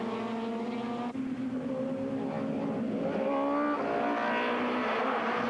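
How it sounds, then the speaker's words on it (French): Touring race cars, including a Peugeot 405, roar off the start of a 1996 Supertourisme race at Lédenon, a dense, loud wall of engines with rising revs as the pack accelerates away. "Départ de la première manche, à côté de Dillmann, Pouchelon sur sa 405."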